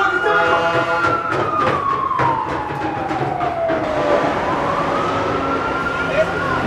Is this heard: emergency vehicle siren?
yes